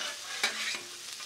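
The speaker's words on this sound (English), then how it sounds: "So we're just gonna saute this around." Bacon and cauliflower sauté in grease with a constant close hiss of frying, plus a couple of brief utensil stirring scrapes over the sizzle.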